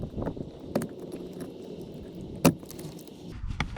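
Connector clips pressed and wires unplugged from the AC blower motor of a 2017 Toyota Corolla, a few small plastic clicks and rattles, one sharp snap standing out, close by and without talk.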